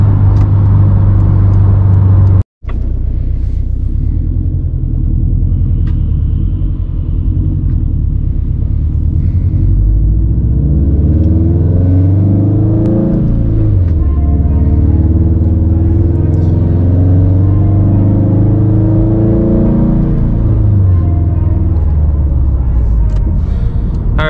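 A turbocharged Subaru STI running E85 with around 400 wheel horsepower, heard from inside while driving: loud, steady engine rumble with rising and falling revs through gear changes after a brief cut near the start.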